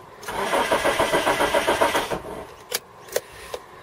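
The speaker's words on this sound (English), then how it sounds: "let's see if this thing will crank or make bad noises or what." A car engine with a bad starter cranks in a rapid, even rhythm for about two seconds, then stops, followed by a few sharp clicks and clunks close by.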